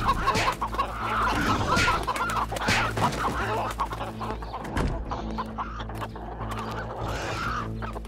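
A hen in a Roblox game clucks repeatedly in short, nearby bursts against a steady low background hum, with no talking.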